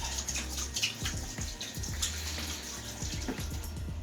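Water from a kitchen tap runs steadily while hands are rinsed under it, a continuous splashing hiss with small irregular splashes and drips, close and fairly quiet.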